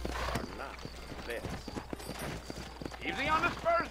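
Horse hooves clip-clopping in the video game Red Dead Redemption, a rapid uneven trot of sharp clops under someone talking throughout.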